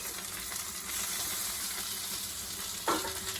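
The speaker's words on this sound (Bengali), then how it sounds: "আর একদিকে এই যে আলু ভাজা করছি" Steady, close sizzling of potatoes frying in a pan, a continuous hiss with a brief louder crackle near the end.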